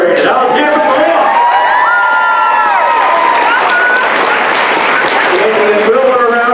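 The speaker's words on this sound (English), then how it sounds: "Now let's hear it for the moms." A school graduation crowd applauds and cheers for the moms, with dense loud clapping, whoops and shouts that keep going throughout, and voices mixed in.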